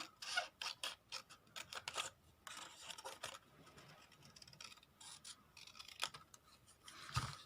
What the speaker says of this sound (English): I'm just going to eyeball this and cut it down the centre